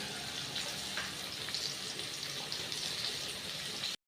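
Potatoes fry in hot oil for a fish, potato and eggplant curry made with ground cumin, a continuous dense sizzle and hiss close by with small spatters throughout, no voices.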